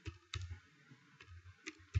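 Keystrokes on a computer keyboard, a few separated clicks at an irregular pace, close and fairly quiet, with no talking.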